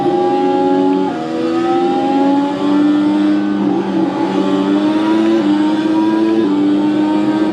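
Race car engine in a racing video game on the Daytona oval, a loud steady drone that climbs in pitch and drops sharply at each gear shift, several shifts in a row, with no talking over it.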